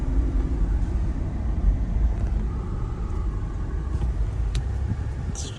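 A 2009 Subaru Impreza wagon with a 170-horsepower engine and a 5-speed manual, heard from inside while driving on city streets, a steady low engine and road rumble with a few faint clicks.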